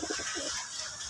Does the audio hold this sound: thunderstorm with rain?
no